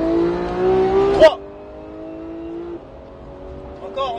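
A Porsche 911 GT3 of the 991 generation on a race track, its engine note rising steadily under acceleration, then a sharp gear change and a lower, steadier drone, heard from inside the car beneath a spoken word.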